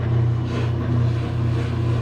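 A washing machine runs after a new drive coupler was installed, giving a steady low motor hum with a faint whir above it, close and continuous with no talk.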